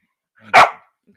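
A dog gives one sharp, loud bark close by, brief and standing alone in an otherwise quiet moment.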